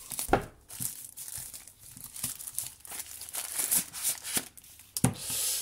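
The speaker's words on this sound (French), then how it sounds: "c'est la boîte en carton" A cardboard shipping box is unpacked up close, with repeated crinkling, rustling and tearing of packaging in irregular bursts, and a sharper rip near the end.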